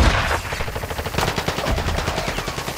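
Rapid automatic gunfire from Call of Duty: Modern Warfare II, loud and sustained, with dense bursts of shots crackling continuously through the whole stretch and no talking over it.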